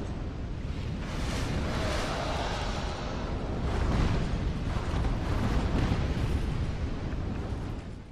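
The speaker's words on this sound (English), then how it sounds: "fire spouts in this room are equally inexplicable and equally annoying" Fire spouts erupting in a room in Dark Souls 2, a sustained roaring, rumbling blast that swells slightly midway and continues steadily for several seconds before fading.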